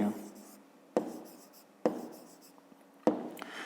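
Pen strokes scratching across paper during a school geometry exercise, a continuous close rubbing with three sharp taps as the pen lands, no talking.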